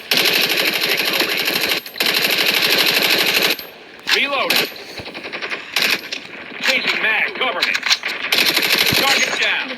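Automatic gunfire from a standard gun in the video game Call of Duty during a ranked match, loud rapid bursts with short pauses between them, close and dominant, with game sound effects mixed in.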